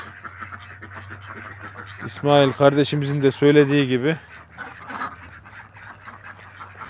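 Ducks being fed in cold weather quack in a loud, rapid burst of several calls over a couple of seconds, with someone talking throughout before and after.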